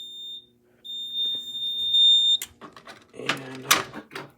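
A Notifier AFP-200 fire alarm panel in alarm after a pull station activation emits a steady high electronic tone that breaks off briefly, resumes, then stops, followed by clicks and rustling handling noise.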